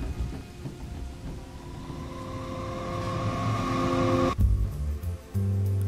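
A music transition effect sweeps up as a rising, noisy riser over sustained tones, then cuts off sharply into pounding low drum hits with a slight gap.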